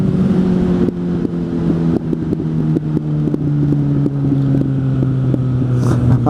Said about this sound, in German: Und dann kommt irgendwann die erste Fehlzündung aus dem Auspuff.